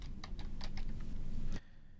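Keystrokes on a computer keyboard as a command is typed into Octave, a quick run of separate clicks and taps for about a second and a half, then an abrupt stop into near silence.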